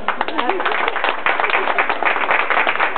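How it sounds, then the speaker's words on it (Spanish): A small group claps and applauds at a child's first birthday party, a brisk, continuous patter of hands heard up close with voices mixed in. "Aplauso para la mami"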